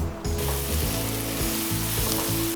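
Pieces of Eastern rock lobster sizzling in hot butter in a pan at a campsite, a steady close frying crackle carrying a low repeating hum underneath.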